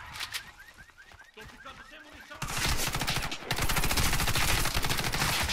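Rapid bursts of Calico submachine gun fire in the shooter game Warface, sustained automatic rattling that grows louder and denser partway through, loud and close in the mix.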